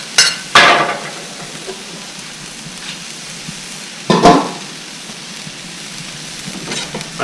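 Teriyaki beef sizzles steadily on a hot griddle while a utensil twice scrapes and pushes it aside with sharp metallic strokes, close up with no talk.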